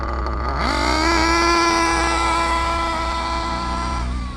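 Reedy 121-VR nitro engine in an RC8T buggy, heard up close as a buzzing, high-pitched whine that rises quickly and then holds at a steady idle during break-in.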